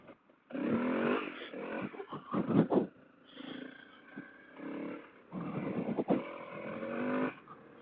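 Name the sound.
Honda CRF250L dirt bike riding on a trail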